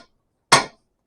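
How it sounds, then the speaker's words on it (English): A single sharp metallic bang rings out close and loud as a hammer strikes to knock a part off a metal rod, fading quickly to silence. "This is a good hammer. It's got a lot of bangs left in it."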